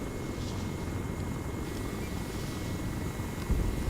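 Steady low rotor drone of a Chinook twin-rotor helicopter in ARMA 3, a continuous rumbling throb held at even loudness throughout, with a slight swell near the end and no talk.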